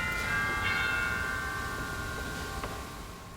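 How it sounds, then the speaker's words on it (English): Cathedral chimes effect on a Wurlitzer theatre organ, a tubular bell tone ringing with a long sustained resonance and a second chime struck later, moderately loud with no other voices. "We've also got the special effects you would expect to find, like the xylophone,"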